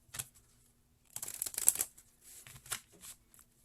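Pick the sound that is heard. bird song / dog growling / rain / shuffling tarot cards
shuffling tarot cards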